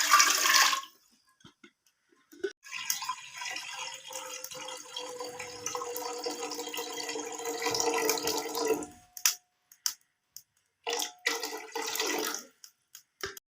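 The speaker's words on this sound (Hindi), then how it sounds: "3 से 4 गिलास पानी के डालेंगे।" Several glasses of water poured into a cooking pan in a home kitchen, a sustained rushing splash lasting several seconds, then brief bursts of water and handling noises close by.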